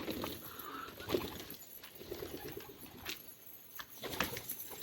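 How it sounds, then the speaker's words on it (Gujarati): Pigeons coo softly at a distance, low murmuring calls coming in brief repeated phrases over quiet room noise. "હાલો બધા કબૂતર તડકા ના જાવ"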